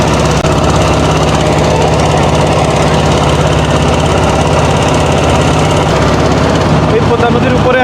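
A trawler boat's engine drones loudly and continuously on the Padma river at Rajshahi, a steady low rumble with rattling vibration that holds throughout and eases slightly near the end.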